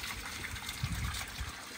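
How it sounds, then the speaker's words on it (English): Fountain water running and trickling in a quiet town centre in Nisa, Portugal, a steady close splashing flow with no voices. "you're getting probably some of the cleanest fountain water. You can hear it running down there."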